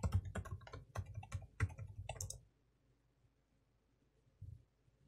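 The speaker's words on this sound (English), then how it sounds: "So I'll type in the password." Rapid keystrokes of a password being typed on a computer keyboard during a Linux backup task, a close run of crisp clicks for about two seconds, then near silence with one faint tap later.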